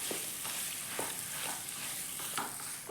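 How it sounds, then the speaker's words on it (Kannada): Mashed potatoes being added to a hot frying pan and stirred while making aloo bonda, with a steady close sizzle under repeated short scraping stirs and no talking. "ಮ್ಯಾಶ್ ಮಾಡಿ ಇಟ್ಕೊಂಡಿರೋಂಥ ಆಲೂಗೆಡ್ಡೆ ಹಾಕೋತಾ ಇದ್ದೀನಿ."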